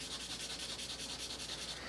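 Charcoal being rubbed onto paper in quick, even back-and-forth strokes, a close, soft, rhythmic scratchy rasp repeating steadily for a couple of seconds.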